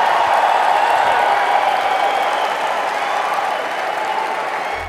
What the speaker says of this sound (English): Hear that crowd?